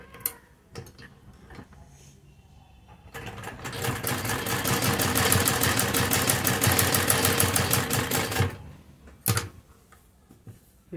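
A sewing machine stitches a garment sleeve in one continuous run lasting several seconds, framed by quiet handling clicks and fabric shuffling before and after.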